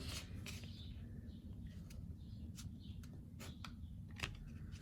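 Gasket material is being cut out by hand for an Atom lawn edger repair, giving a series of short, sharp snips and rustles at an irregular pace over a low, quiet background hum, with no one talking.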